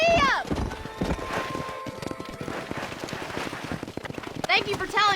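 Horse hooves gallop in a steady, rapid clip-clop in the Red Dead Redemption video game while cattle are herded to a cow pen, with voices talking briefly at the start and end.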